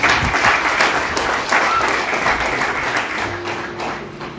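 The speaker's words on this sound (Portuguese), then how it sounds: "Aplauda bem forte o Senhor nesta noite" Church congregation applauding during an evening worship service, steady loud clapping from many people that fades slightly toward the end, with voices under it.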